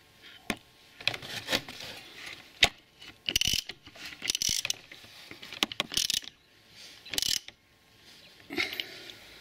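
A hand ratchet works a nut off the clutch of a Kazuma Panda ATV under refurbishment, clicking in short, close bursts separated by pauses, with no talk over it.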